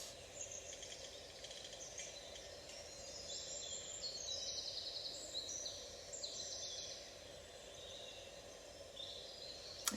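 Birds singing outdoors: faint, scattered high chirps and trills drift over a soft, steady background hum, distant and gentle throughout, with no voices.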